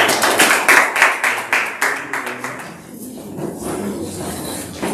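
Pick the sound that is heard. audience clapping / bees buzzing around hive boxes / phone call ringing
audience clapping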